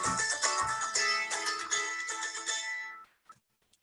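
A phone ringtone plays loud and close for about three seconds as a melodic electronic ring, then cuts off abruptly into near silence, heard in a reflexology class.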